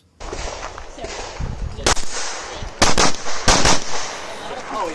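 Rapid pistol shots crack loudly at steel and paper targets on a USPSA practical shooting stage, a few isolated reports followed by tight clustered bursts, with movement noise between strings.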